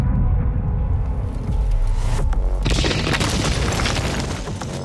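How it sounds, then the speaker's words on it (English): In Doom Eternal, the Doomslayer is fired from a cannon across space and through a wall: a loud, sustained booming rumble that swells into a harsh burst of crashing noise partway through. "loading himself into a cannon and firing himself across the Gulf of Space and through a wall"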